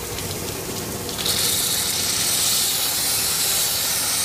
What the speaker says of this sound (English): Look at all that air and water coming out. All that pressure.